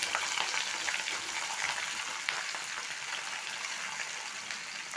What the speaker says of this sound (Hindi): डाल देते हैं इसमें अपने कटहल।